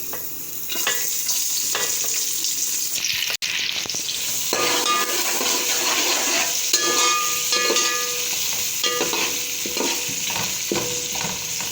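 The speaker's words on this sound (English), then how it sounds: "Now I'm gonna fry the onions. So add the onions and chilies." Onions and chilies frying in oil for a ridge gourd (turai) bhujia: a loud, constant close sizzle with spoon scrapes and stirring clatter running throughout, with no voices.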